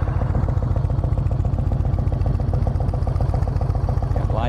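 A 2006 Yamaha Roadliner, a fuel-injected belt-drive motorcycle with about 21,000 miles, idles close by with a steady, even, rhythmic low engine pulse and light mechanical clatter, alone without talk.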